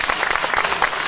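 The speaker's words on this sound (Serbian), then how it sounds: "Hvala, aplauz za našu doktorku" An audience at a youth singers' festival applauds a doctor guest, steady broadband clapping from many hands, fairly close and even throughout, with no speech over it.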